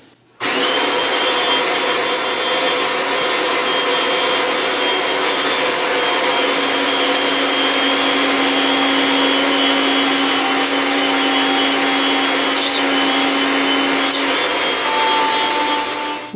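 A vacuum cleaner with a thin brush attachment cleans refrigerator coils, switching on abruptly and droning loudly and steadily at close range for about sixteen seconds with no talk.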